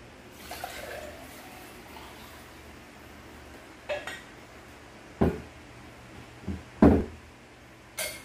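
The last bowls and two cups are washed in a home kitchen, with several separate sharp clinks and clatters of dishware spread over a quiet, hissing background.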